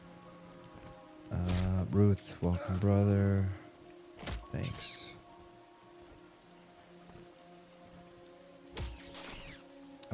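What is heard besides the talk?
rain falling in video game Monsters & Memories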